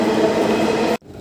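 Steady broadband rumble of a metro train running, loud and close, cutting off abruptly near the end.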